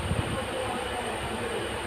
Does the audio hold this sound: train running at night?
yes